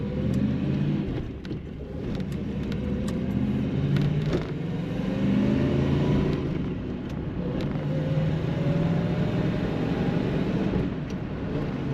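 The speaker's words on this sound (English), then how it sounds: "Very nice shifting, nice acceleration." A 1982 Chevrolet Camaro Z28 Indy 500 pace car edition with a four-speed manual, heard from inside while driving: steady engine rumble rising and falling through gear changes and acceleration, with faint clicks over the drone.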